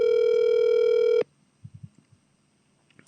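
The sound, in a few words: outgoing phone call ringing tone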